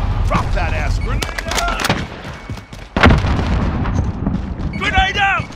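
A grenade going off in Call of Duty Modern Warfare, a sharp close blast near the middle among scattered gunshots, with talk and game chatter around it.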